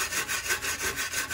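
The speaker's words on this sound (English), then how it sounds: "all I did is I took my little wire brush right here" Wire brush scrubbed back and forth over a rusty BMW E46 fender, a steady rhythmic rasping of about six close, loud strokes with no talking.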